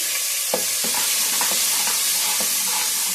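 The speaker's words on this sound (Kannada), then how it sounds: "ಈಗ ಅರ್ಧ ಈರುಳ್ಳಿ ಹಾಕ್ಕೊತಾ ಇದ್ದೀನಿ" Sliced onion fries in hot oil with mustard seeds for an avarekalu pulao, giving a steady bright sizzle broken by a handful of stirring scrapes spaced roughly every half second.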